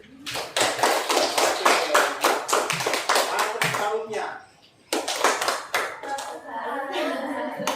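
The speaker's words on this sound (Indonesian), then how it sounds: "hasil presentasi kelompok 1 berikan tepuk tangan dulu." Schoolchildren in a classroom clap in quick, distinct bursts for their group's presentation, loud and close, with a short pause midway before the clapping resumes; a voice speaks briefly.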